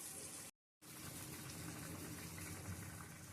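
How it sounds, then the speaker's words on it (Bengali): Water pours into a pan of simmering shrimp curry with potato and sweet pumpkin, a brief gushing fill cut by a short gap, then a steady bubbling hiss. "একটু জল দিয়ে দিব"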